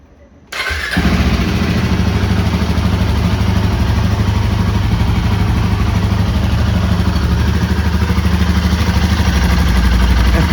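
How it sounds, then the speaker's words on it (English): A Royal Enfield Himalayan 450 motorcycle, freshly given an oil change, starts abruptly after a brief cranking moment and then settles into a loud, steady, close idle with an even mechanical clatter. "So we're going to be starting the engine, and we'll have a listen to the engine, how it is after swapping out the oil."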